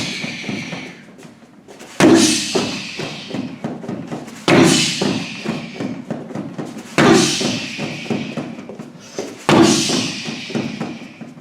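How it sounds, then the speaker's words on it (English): Four heavy martial arts round kicks land in a demonstration, each a sharp loud impact followed by rustle and scuffing, spaced about two and a half seconds apart in a quiet room. "So this is what a round kick looks like."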